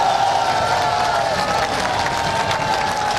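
A crowd at a political rally in Chichawatni, Pakistan, claps and cheers in a dense, continuous wash of applause that stays fairly even and moderately loud from start to finish.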